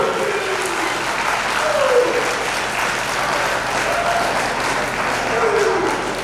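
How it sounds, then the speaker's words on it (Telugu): Sustained, loud applause from a college audience in Kalwakurthy celebrating students at a vocational junior college event, steady dense clapping throughout with some voices mixed in. "వీళ్ళందరికీ మనమందరం గట్టిగా చప్పట్లతో అభినందించాలి"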